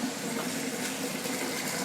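Water rushes steadily into the flow tank of a Sioux steam and pressure washer combination unit, a constant close gushing fill with no voices over it.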